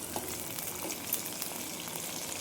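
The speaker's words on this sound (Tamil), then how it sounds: "இப்போது வெங்காயம் நல்லா பொன்னிறம் ஆகிற வரைக்கும் நல்லா வதக்கிக்கலாம்." Onions sautéing in a pan until golden for a curry leaves chicken curry, a soft continuous sizzle with faint occasional clicks, fairly quiet and steady, no voices.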